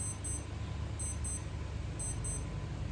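A bedside alarm clock rings in repeated bursts of high electronic beeping, sounding in pairs about once a second over a steady low background hum, with no voices.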